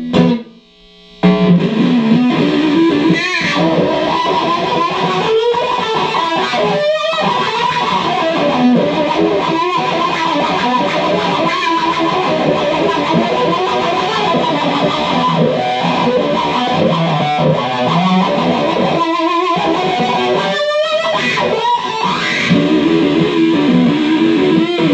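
A heavily distorted electric guitar played through a Dano-Wah DW-1 wah pedal continues for about twenty-five seconds, loud and gritty, with a sweeping, filtered tone shifting over sustained chords.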